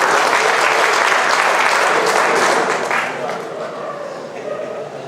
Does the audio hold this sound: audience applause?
yes